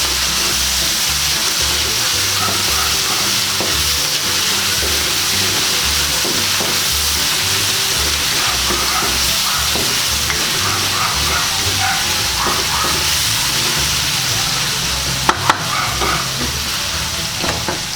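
Heart of coconut palm (ubod) sautéing in a hot pan for lumpia filling, a steady loud sizzle with stirring scrapes throughout, no voices over it.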